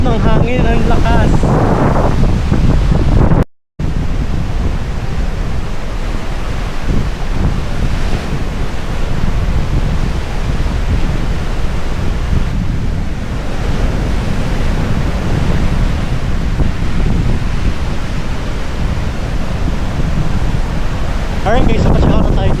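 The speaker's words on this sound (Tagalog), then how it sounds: "At ang sarap ng hangin, ang lakas." Strong wind on a Boracay beach by the sea, a loud continuous roar buffeting the microphone with crashing surf beneath, steady throughout apart from a momentary dropout early on, and a voice speaking briefly over it.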